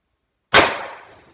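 A single sharp, loud shot from an FSC ADN drum magazine blaster, a sudden crack that decays quickly in a dry room.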